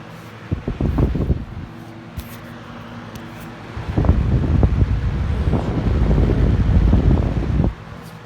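A Lasko premium box fan running on its low speed setting gives a steady, soft airflow whoosh. Broadband rushing noise stays fairly constant, with a few thumps and handling bumps near the microphone and a louder stretch midway.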